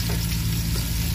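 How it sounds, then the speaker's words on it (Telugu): Onions sizzle steadily with salt in a hot pan while being cooked down for chicken biryani, a constant close hiss with no talking. "కొంచెం సాల్ట్ వేస్తున్నామండి. ఉల్లిపాయలు చక్కగా మగ్గుతాయి అన్నమాట."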